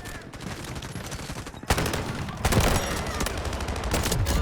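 Rapid automatic gunfire in the mobile shooter Delta Force Mobile, a close-range weapon firing dense bursts that grow louder and more sustained after the opening moments, with no talk over it.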